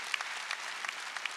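A church congregation breaks into applause during a Sunday worship service, a soft, distant patter of many hands with a few louder claps poking through, brief and fairly faint.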